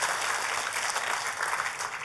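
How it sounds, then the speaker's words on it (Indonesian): A church congregation applauds in a brief burst of dense, steady clapping, loud and sustained from start to finish with no pause. "Tepuk tangannya yang paling meriah buat Tuhan kita."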